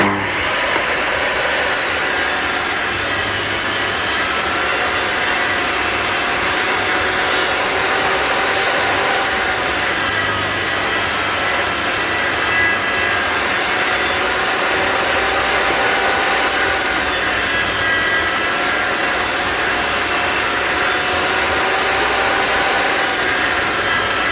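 Saw cutting wood for a window frame, a steady loud rasping that runs unbroken and close up for the whole stretch, with no talking over it.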